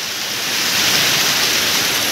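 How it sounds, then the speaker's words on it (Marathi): A large village waterfall roars as a loud, continuous broadband rush, close and unbroken, with no voices over it. "कसा वाटला मित्रांनो आपल्या गावचा धबधबा? पहा धबधबा एक नंबर आहे"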